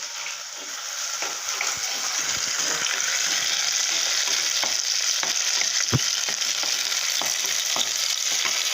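Green chillies drop into hot oil in a pan, a steady, close sizzle and crackle with scattered sharp pops running throughout.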